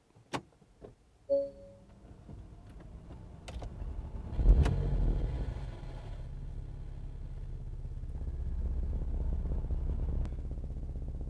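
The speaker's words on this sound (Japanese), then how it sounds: "では、エンジンを始動します。" A couple of clicks, then the engine of a 2017 Porsche Macan Turbo Performance SUV cranks and catches, settling into a low, steady idle that swells slightly toward the end.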